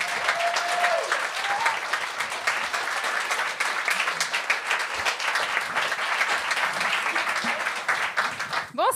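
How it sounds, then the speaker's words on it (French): A large crowd applauds steadily for several seconds, dense clapping that stays loud throughout with a faint voice or whoop early on. "cher public, je vous demande d'applaudir jusqu'à temps que la personne prenne le micro"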